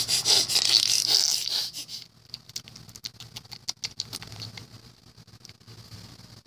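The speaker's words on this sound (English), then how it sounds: "some hail just hit my window" A loud, dense rattle of hail striking a window for about two seconds, then scattered sharp ticks and taps of individual hailstones that thin out and fade.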